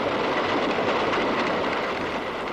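Flying Scotsman steam locomotive running at speed, around 50 or 60 miles an hour, a loud steady roaring rush of wheels and motion with no breaks, heard close and without voices.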